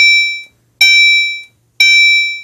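A Gentex GECB24PWB Commander 3 fire alarm sounds its chime: three bright, ringing electronic tones, each decaying over about half a second, repeating at a steady one-per-second pace with no voices.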